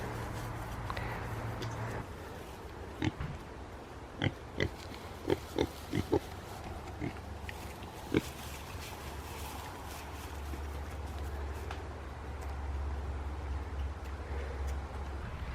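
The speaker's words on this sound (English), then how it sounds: "So we are raising 2 pigs this year." Two nine-week-old Berkshire Tamworth cross piglets give soft, low grunts over a faint background hum, with a quick run of sharp clicks and taps in the middle.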